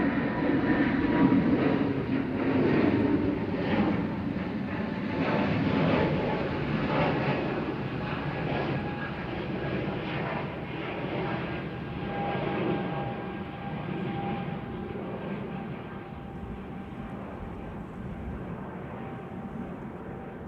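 An Airbus A320neo jet departs on a flight to Berlin, a steady, distant broadband engine roar that holds evenly throughout and fades slightly toward the end.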